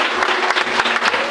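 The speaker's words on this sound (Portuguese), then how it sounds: "Dá uma salva de palmas." Church congregation giving a round of applause, dense steady clapping from many hands filling the room without a break, with faint voices underneath.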